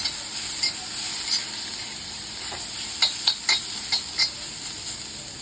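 Bitter gourd dry vegetable being stirred in a pan, soft sizzling under a series of light scraping and tapping strokes from the spoon, several quick ones clustered near the end.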